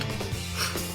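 A fly tying vise being adjusted while tying a hobo fly, giving a brief, close run of small clicking, ratcheting mechanical sounds with light rubbing, no voices.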